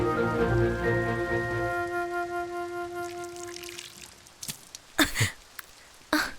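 Rain patters softly under a fading tonal hum, followed by a few sharper, louder drips or splashes near the end.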